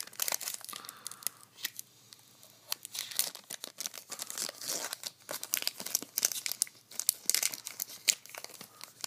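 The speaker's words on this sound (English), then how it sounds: "So let's open up this pack." A Tim Hortons hockey card pack is torn open and handled, with close, sharp crinkling and tearing of the foil wrapper in quick irregular bursts, continuing throughout with no speech.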